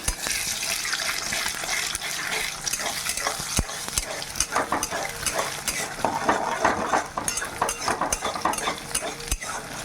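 Two eggs frying in white oil in a pan, with a continuous crackling sizzle and frequent clatter of a utensil against the pan, close and fairly loud throughout, with no talk.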